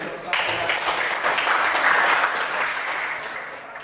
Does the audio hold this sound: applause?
yes